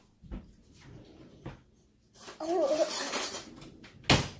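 Cutlery clattering in a kitchen as a spoon is fetched from a drawer, a few sharp metallic clinks and rattles with a short burst of rummaging, a voice briefly audible in between.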